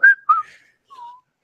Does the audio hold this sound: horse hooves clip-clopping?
no